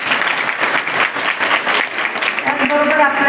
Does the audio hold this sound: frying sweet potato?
no